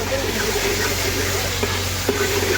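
Potatoes frying in a pan for a samosa filling, giving a steady, close sizzle that holds evenly throughout with a few faint stirring clicks and no talking.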